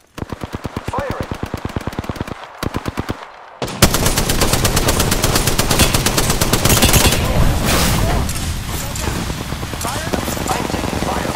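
Rapid automatic gunfire in the Xbox One game Apex Legends: stuttering bursts close and loud, a brief gap near the start, then dense, sustained firing with overlapping shots and impacts for the rest of the stretch.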